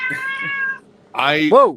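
A house cat meows loudly and close by, a rising-falling cry with strong harmonics, following a brief exclaimed word from a person and a short pause.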